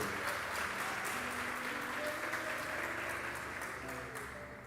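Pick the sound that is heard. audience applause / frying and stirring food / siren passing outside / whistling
audience applause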